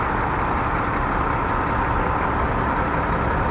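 A brand-new Oshkosh heavy-duty all-wheel-drive truck idles at an auction with a steady, even rumble that continues throughout with no voices.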